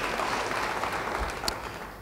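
Church congregation applauding, a broad steady patter of many hands filling the room, fairly soft and even throughout.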